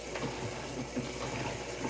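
Tomatoes washed under a running kitchen tap, a steady close splash and trickle of water lasting a couple of seconds with no voices.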